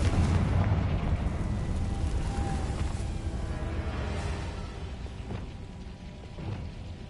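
A Confringo spell in Hogwarts Legacy bursts into a broad, rumbling explosion that starts loud and slowly fades under a dense wash of game noise.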